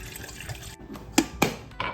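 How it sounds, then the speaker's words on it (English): Water is poured into a container to be boiled for instant coffee. It comes as a soft running trickle broken by a few short, sharp clinks and splashes, close by, with no talking. "let's just boil some water"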